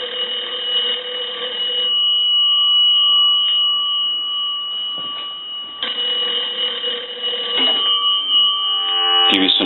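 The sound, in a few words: Kellogg wood wall crank telephone bell ringing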